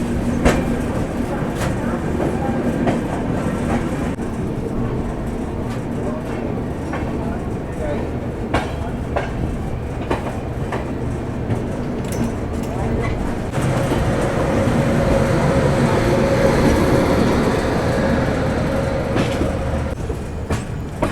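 The Shatabdi Express, India's fast train on the Bhopal to New Delhi run, rumbles steadily along the rails at speed with a loud continuous roar and faint clickety-clack, heard from inside, with a voice speaking over it.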